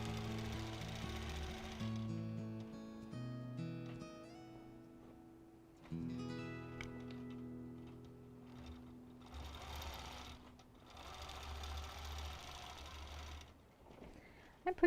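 A sewing machine doing free-motion quilting whirs in long, steady runs of rapid stitching, close by, stopping and restarting a few times, with a brief quiet break between runs.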